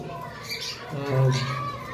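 Albino lovebirds in a cage at a bird farm give short squawks and chirps, one brief louder call standing out over background chatter and children's voices.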